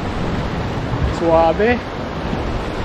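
Sea surf washes steadily against a rock formation, heard from high up with wind buffeting the microphone, and a brief voice cuts in over it partway through.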